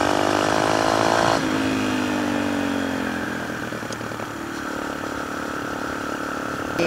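A dual-sport motorcycle engine drones steadily while riding, loud and close, its pitch dropping slightly as the rider eases off, with no talk.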